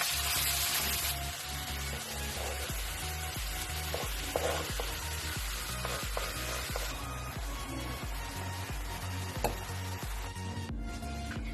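Salted minced meat filling for pide is stirred in a pan, giving a steady sizzle with rhythmic scraping strokes repeating roughly every half second, fairly quiet and with no talking.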